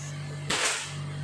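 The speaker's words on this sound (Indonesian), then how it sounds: "Kita coba 2 kali tembakan ya," A single sharp air-rifle report from a Marauder fired at a target, one close, abrupt burst over a low steady hum.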